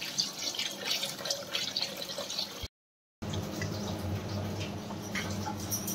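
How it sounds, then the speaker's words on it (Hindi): Water poured from a vessel into a pan of fish curry being cooked, a steady liquid splashing and trickling that stops briefly midway and then resumes, close and fairly quiet, with no talk. "अब हम इसमें पानी डालेंगे।"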